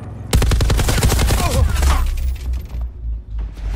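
Rapid automatic hip-fire bursts from an LMG in Call of Duty Black Ops 4 (Hades), loud and close at the start, then fading into game noise and low chatter.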